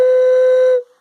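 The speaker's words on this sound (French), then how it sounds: "on a un ocarina qui siffle bien" A clay ocarina whistles one clear, steady note for under a second, then cuts off into silence.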